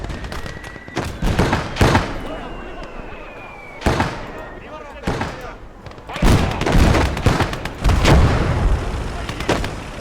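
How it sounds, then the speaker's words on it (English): Heavy Russian 122 artillery fire in the WWII strategy game Blood Red Snow, a string of loud booming blasts spaced a second or two apart with rumbling tails, mixed with battle noise and occasional voices. "That's the heavy artillery."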